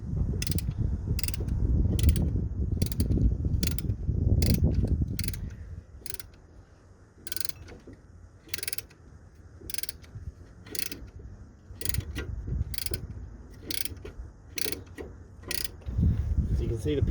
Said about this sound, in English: then I ratchet forwards and backwards